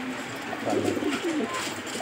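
A young pair of pedigree military racing pigeons coo softly, with a few close, low, burbling calls over steady background noise.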